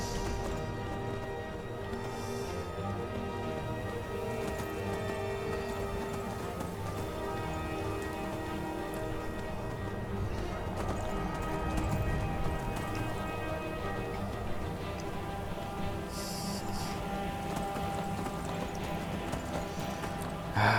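A horse in Skyrim trots up a long mountain climb, its hooves clip-clopping in a steady rhythm close by, with occasional whinnies and snorts rising over the footfalls.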